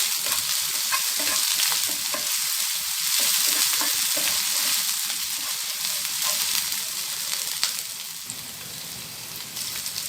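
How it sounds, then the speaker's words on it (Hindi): Onions with green chilli, ginger and garlic fry in a pan, a dense crackling sizzle that stays loud and close for the full ten seconds, with occasional stirring. "अब इसको गोल्डन ब्राउन होने तक फ्राई करेंगे।"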